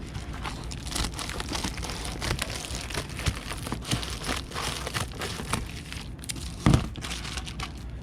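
Packaging material for an outgoing parcel crinkles and crunches as the excess is cut off, a close, continuous run of rustles and snips with one sharper crack near the end.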